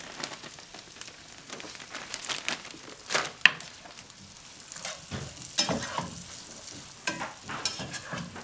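Chopped onion and celery sizzle in a pot over medium-low heat for chicken tortilla soup, a soft steady fry broken by sharp scraping and stirring clicks, quiet and close, without talk.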